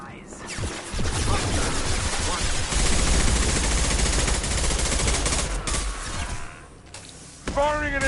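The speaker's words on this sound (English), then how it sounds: "Firing an impact shot." An impact shot is fired in the sci-fi shooter game Mass Effect 2, giving sustained heavy gunfire and blast noise. The sound is loud, then cuts out into a short quiet gap before a final burst with a brief voice.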